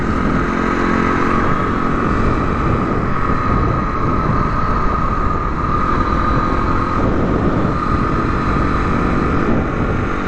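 A Harley-Davidson motorcycle on a cold, wet ride, its loud engine a steady broad rumble and roar mixed with road and wind noise throughout.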